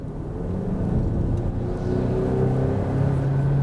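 A 2022 Kia Sportage mid-sized SUV's engine switched into sport mode gives a steady low rumbling hum that rises slightly, heard close from inside the cabin with no talking.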